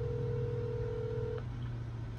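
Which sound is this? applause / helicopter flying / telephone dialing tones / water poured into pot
telephone dialing tones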